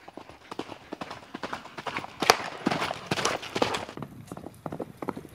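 Horse hooves pound during a yabusame horseback archery event, a quick uneven run of clip-clop beats that are fairly close and clear, with no talking.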